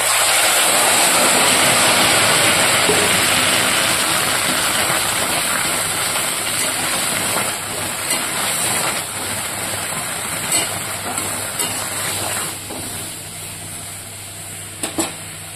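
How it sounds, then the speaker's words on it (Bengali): Water goes into a pan of fried mixed leafy greens, a dense steady hiss and bubbling sizzle that fades slightly toward the end, with a few clatters near the finish. "শাকটা ভাজা হয়ে গেছে, এবার আমি শাকে দিয়ে দিব জল।"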